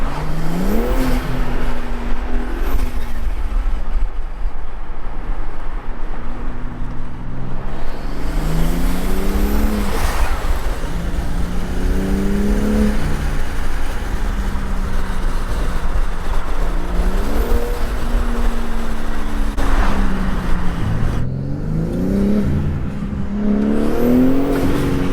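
BMW G80 M3 engine pulling through the gears on a drive, with repeated rising revs and shifts over a steady loud road rumble throughout.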